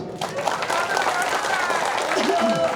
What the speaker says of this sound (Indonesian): Tepuk tangan tuh Adun Muklis